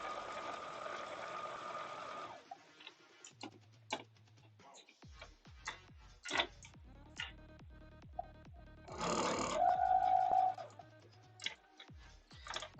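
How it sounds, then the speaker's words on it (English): A sewing machine with a weird rubbing noise runs in short bursts with rapid ticking stitches, quiet and close, between pauses and small handling clicks. "My machine has been making a weird rubbing noise."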